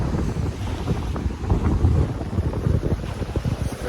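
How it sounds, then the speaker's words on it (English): Strong gusting wind on a lake island batters the microphone, producing loud, continuous rumbling buffets with faint water lapping underneath. "It's very, very windy."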